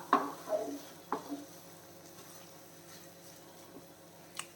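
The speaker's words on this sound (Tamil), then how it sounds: "கொத்தமல்லி தழி இருந்தால் சேர்த்துடலாம் சேர்த்துட்டு கிளறி விட்டுறேன்" A spoon stirs millet tomato rice with coriander leaves in a cooking pan, giving a few scraping knocks and clinks at irregular intervals over a faint background sizzle.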